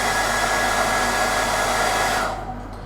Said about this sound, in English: So I'm just going to hit this with a hairdryer once again.